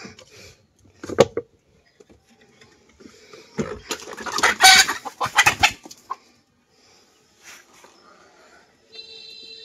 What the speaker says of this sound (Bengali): মুরগিগুলো ছাড়িয়ে দিব